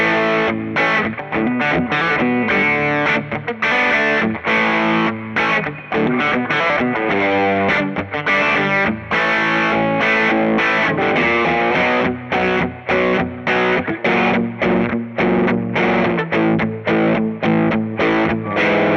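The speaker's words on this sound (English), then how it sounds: "dime the amp and get it kind of ragingly distorted" Heavily distorted electric guitar through a cranked tube amp plays loud and continuous, with thick saturated chords and sustained notes, no voices.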